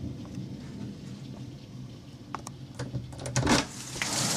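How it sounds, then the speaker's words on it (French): A summer thunderstorm on 21 June 2012 brings steady rain hissing on surfaces with a low rolling rumble of thunder building near the end, no voices present. "ça m'a l'air d'être parti pour être l'orage du mois"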